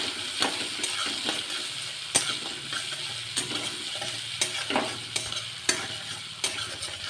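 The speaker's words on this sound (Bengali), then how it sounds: "এমনভাবে নাড়াতে হবে যাতে সমস্ত জিনিসগুলো একে অন্যের সাথে মিশে যায়" Onion and ginger fry in a pan for a fish dish while a spoon stirs them, giving a constant sizzle punctuated by repeated sharp scrapes and taps against the pan, close and without speech.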